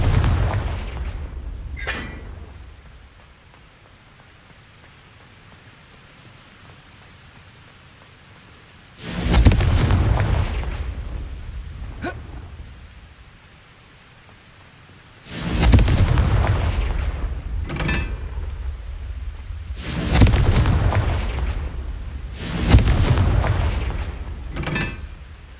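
Confringo fire spell explosions in the Hogwarts Legacy video game: a sharp crack early on, then several heavy, loud booms with rumbling tails at irregular intervals.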